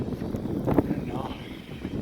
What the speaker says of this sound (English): it's got nice and windy and cold